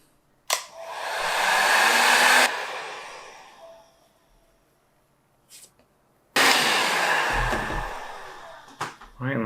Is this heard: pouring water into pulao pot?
no